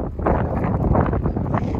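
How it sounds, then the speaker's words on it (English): Steady wind buffeting a microphone outdoors beside a parked vehicle, a loud, continuous low rumble with gusty surges throughout and no voice heard. "Sorry about the wind, it is a little bit windy here today."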